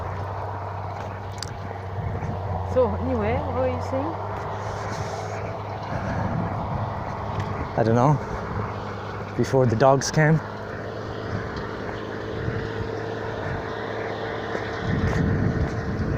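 A steady low tractor engine drones in the distance while people talk nearby, the rumble continuing evenly under their conversation.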